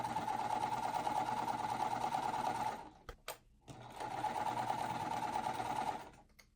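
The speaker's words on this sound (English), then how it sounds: "I'm going to sew these together first." A sewing machine hums steadily while joining quilt pieces, running for a few seconds, stopping briefly with a couple of clicks, then resuming its even, close whir.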